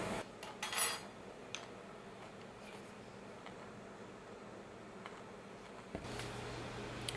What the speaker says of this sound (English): let me get these pickles cut up